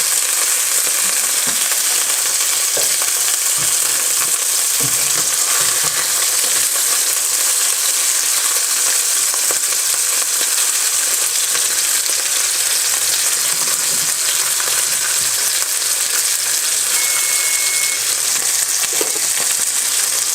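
Fennel-crusted ahi tuna steaks sear in a hot pan, giving a steady, dense hiss of sizzling oil that holds at a constant level throughout with no speech.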